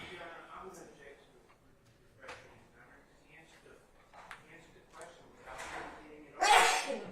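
One sharp sneeze bursts out near the end amid quiet talk and murmuring in a courtroom during a criminal trial.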